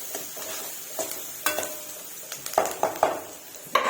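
Onions frying with salt in a pan for a curry-leaf dish, with faint sizzling throughout and several sharp stirring scrapes and clinks of a utensil against the pan, close and moderately quiet.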